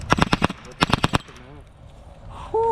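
An RDX B.O.S.S unit in full-auto mode fires rapid bursts of simulated machine-gun shots, sharp and close, then goes quiet before a short electronic beep.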